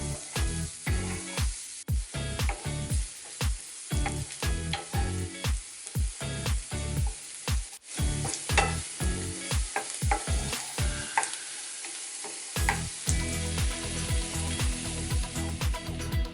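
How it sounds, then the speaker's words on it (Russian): Chopped onion fries in olive oil in a pan with a continuous sizzle. Repeated rhythmic stirring strokes run through it, with a short lull near the end before the stirring resumes. "обжариваю нарезанную луковицу на оливковом масле до золотистого цвета"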